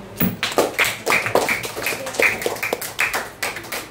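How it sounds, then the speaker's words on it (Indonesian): Sixth-grade pupils clap hands together in a classroom, a loose, uneven run of sharp claps close by, with distinct bursts rather than a smooth roar. "Coba semuanya tepuk tangan kalau mudah"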